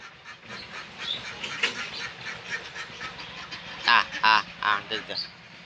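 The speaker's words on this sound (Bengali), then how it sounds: "আবার আমাদের দেশি হাঁসগুলা বাসা থেকে বের হয়ে আসছে" Local domestic ducks quack nearby in a short burst of loud, rapid calls, with a person talking softly before and around them.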